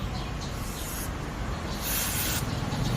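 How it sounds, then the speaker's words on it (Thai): A steady aerosol cleaner spray hisses close up onto a rusty brake, with two louder bursts in the middle, over a low continuous rumble. "เอาสเปรย์ฉีดล้างฮะ ขอบสนิมก่อนครับ"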